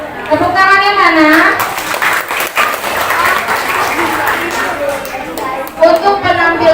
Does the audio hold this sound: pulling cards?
no